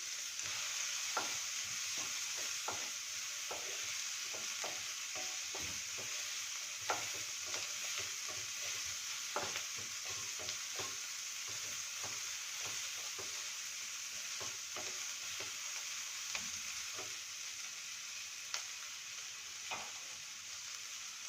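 Green chili going into a hot pan of sizzling potato masala with capsicum for a sandwich filling: a steady close sizzle runs throughout, broken by repeated spoon scrapes and clicks from stirring, with no talking.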